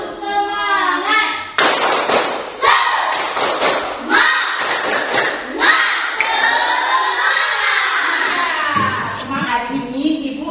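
A classroom of students doing the tepuk semangat chant, loud group voices shouting in rhythm with sharp unison claps and thumps in a recurring pattern, close and lively.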